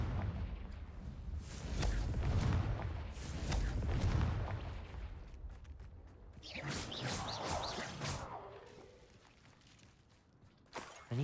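A Confringo spell blast in Hogwarts Legacy lands as heavy booming explosions with whooshes and low rumble, followed by more crackling bursts, close and loud before tailing off.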